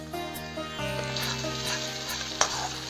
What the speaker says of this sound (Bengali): এই জন্য আমি চিংড়ি মাছটা আগে ভাজি নাই, এখন ভাজছি